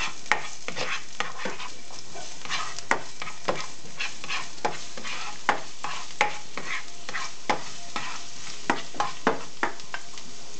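Garlic sizzling in a hot frying pan with a steady background crackle, broken by repeated sharp stirring clicks and scrapes of a utensil against the pan at an uneven rhythm, close and alone.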